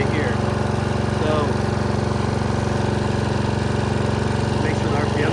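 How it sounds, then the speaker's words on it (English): A Snapper riding lawnmower engine running with the blades engaged, a loud steady close-up mechanical drone with rhythmic pulsing that continues throughout. "So the way you engage the blades is this lever right here."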